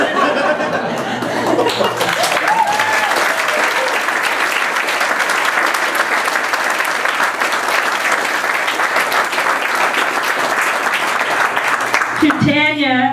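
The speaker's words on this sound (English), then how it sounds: "I want a round of applause to Judy and Bill Kelford of the Perth Restaurant" Dinner guests at a restaurant break into loud, sustained applause mixed with laughter and chatter, clapping steadily for over ten seconds before a voice begins talking at the end.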